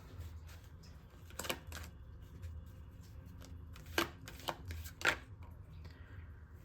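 A deck of tarot cards being shuffled nearby in short bursts, riffles and slaps at irregular intervals over quiet room tone, with no talking.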